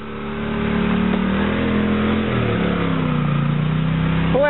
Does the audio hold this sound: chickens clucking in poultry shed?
no